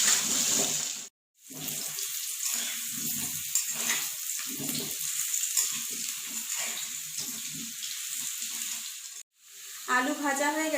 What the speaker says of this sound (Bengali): আলুগুলো হালকা লাল করে ভেজে নেব।